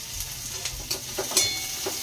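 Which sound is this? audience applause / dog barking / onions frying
onions frying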